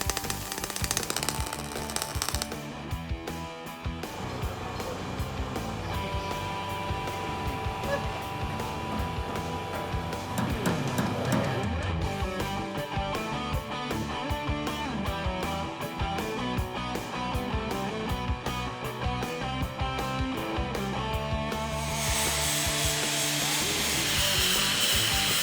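Machine shop work turning down and drilling out a lug nut into a spring perch adapter for a Hemi Belvedere leaf spring, a steady continuous mechanical grinding and whirring that runs loud for the whole stretch without talk.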